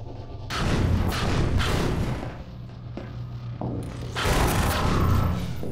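Heavy Half-Life 2 weapon fire comes in long, loud, booming bursts with mechanical rumble between them, close and continuous across several seconds, with no talk.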